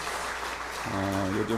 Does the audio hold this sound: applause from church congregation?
yes